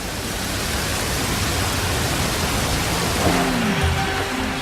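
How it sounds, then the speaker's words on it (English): Heavy rain pours down on a New York skyscraper construction site, a dense continuous roar of falling water, loud and unbroken, with a faint tonal hum entering near the end. "The team braves the elements, pouring concrete floors even in the downpour."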